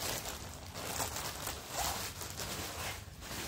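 A clothing zipper is handled up close for a few seconds, giving soft scratchy rustles and brief zipping rasps against quiet room noise.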